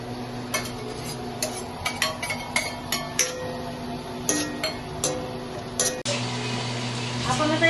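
Fresh turmeric roasted in a pan while a spoon stirs it, with repeated clinks and scrapes of metal against the pan over a steady sizzling hum that grows louder near the end, while someone speaks.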